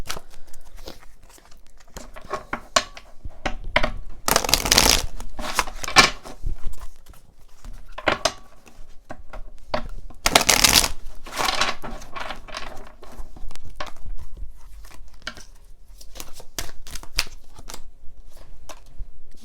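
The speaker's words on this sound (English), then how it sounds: "I'm going to pull some more oracle cards." Oracle cards being shuffled by hand in repeated bursts of riffling and flicking, with two louder, longer riffles standing out and quieter taps and slides in between.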